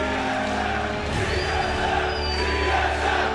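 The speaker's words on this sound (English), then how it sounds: "as you can hear the crowd cheering" Spectators roar and cheer at a live League of Legends esports match between TSM and LMQ, a dense, sustained crowd noise with scattered shouts, heard from within a large arena.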